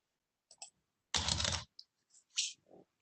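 Code being typed on a computer keyboard: a few scattered light clicks, one dense half-second burst of keystrokes, then several more isolated taps, all close and with no talking.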